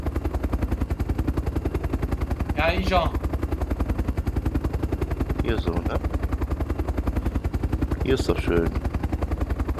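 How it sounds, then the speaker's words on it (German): Helicopter in Arma 2 DayZ Epoch, a steady rapid rotor chop droning loud and unbroken throughout, with brief bursts of people talking over it. "Ja, ich höre einen Helikopter."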